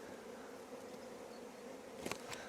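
Steady low insect buzzing from many honey bees fills the clip, with a couple of brief louder taps or knocks near the end.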